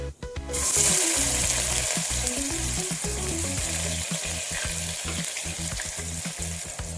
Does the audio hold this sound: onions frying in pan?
yes